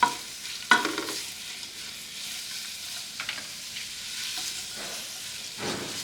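Onions sizzle steadily in melted ghee over a low flame for a Thai beef stew, a constant frying hiss with occasional scrapes and stirs of a spatula in the pan, no voices.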